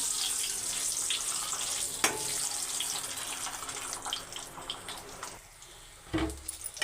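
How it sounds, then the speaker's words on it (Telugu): Eggs fry in a pan with a bright, continuous sizzle, a single knock partway through, and a clatter near the end as the sizzle eases. "ఎగ్స్ అయితే ఫ్రై చేసుకుందాం"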